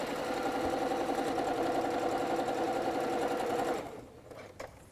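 Sewing machine stitching fabric pieces for a table runner runs in a steady fast close whir for about four seconds, then stops, leaving faint clicks.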